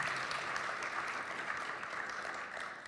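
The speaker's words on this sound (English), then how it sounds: "Why don't we give both of these gentlemen a big round of applause." An audience at a debate between an atheist and a Christian claps steadily for a few seconds, a dense, even patter of applause with no voices on top.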